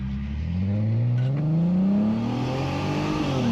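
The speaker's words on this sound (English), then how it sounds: "This exhaust system sounds absolutely 10 out of 10." An Audi TT engine revs up through a new back box with resonator delete, pitch climbing steadily in a loud, close, throaty roar.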